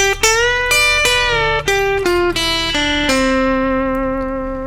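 A clean electric guitar country lick of separate plucked notes, several bent upward in pitch, ringing clearly with no talking.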